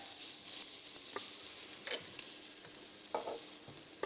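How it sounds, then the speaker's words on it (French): Quiet, steady sizzle of shallots, garlic, carrots, celery and fennel cooking in a saucepan, with a few soft scraping stirs and light clicks of a utensil. "On va commencer avec des légumes que je vais faire revenir dans cette casserole."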